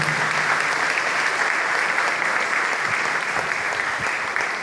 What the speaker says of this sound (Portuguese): Com a salva de palmas, parabéns à Pastoral Afro.